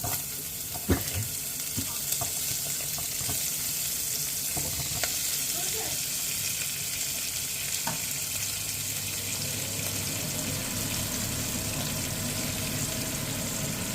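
Onions sizzle in a pan with chorizo, a steady close frying hiss with occasional stirring knocks and scrapes of a utensil throughout.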